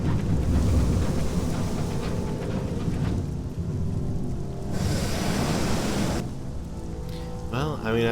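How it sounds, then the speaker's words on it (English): A storm roars in Sunless Skies, with steady broadband rushing like heavy rain and surf and rumbling low swells that shift in intensity over several seconds. "Why won't the storm stop?"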